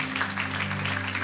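A church congregation claps during a service, a short, even patter of applause with a steady low hum underneath.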